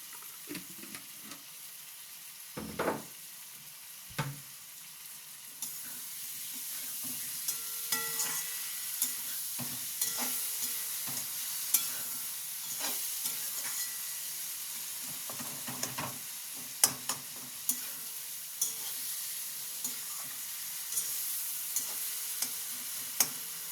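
Curry of eggplant, potato and rui fish sautéing in a pan, with continuous close sizzling and frying hiss broken by repeated scraping stirs of a spatula, no voices.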